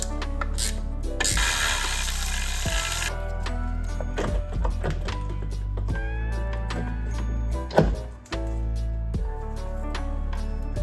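Ratchet clicks in quick bursts, close up, as the brake master cylinder is unbolted from a BMW E30 during chassis prep, with a brief loud hiss of spray and scattered metallic clatter between the ratcheting runs.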